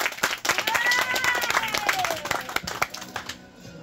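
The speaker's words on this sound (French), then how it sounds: "on peut l'applaudir" An audience claps for a theatre actor in a brief burst of dense, lively applause, with voices mixed in over the clapping before it thins out at the end.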